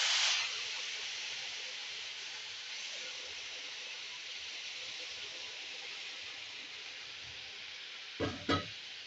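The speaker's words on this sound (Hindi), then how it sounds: "तो यहाँ पे अब हम डालेंगे हमने जो शुगर सिरप तैयार करके रखा है अपना" Sugar syrup poured into semolina roasted in ghee for sooji halwa, a loud burst of sizzling that settles into a steady steamy hiss, then two brief clattering stirs at the end.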